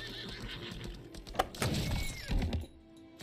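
A horse in the game Lost Ark neighs once in a short whinny, close, along with hoof clip-clops and a few thuds, with no talking.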